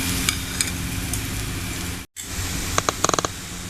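Gram flour tikkis sizzling in oil on a stove, a steady close frying hiss with a brief dropout midway, then a short run of sharp pops and crackles near the end.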